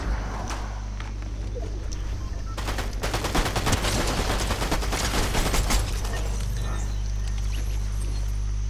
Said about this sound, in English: Oh, I just got shot at.